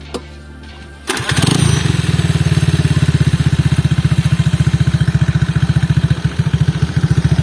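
A carbureted Honda Beat motorcycle starts up after a quiet moment, then settles into a loud, close, steady chugging idle with a rapid rhythmic putter.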